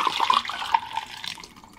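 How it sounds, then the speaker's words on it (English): A pot used for milk tea is rinsed: water is swished around inside, then poured into a kitchen sink drain fitted with a strainer, giving a brief burst of sloshing and splashing with no talking. "Pour some water in, swish it around, pour it down, drain like this"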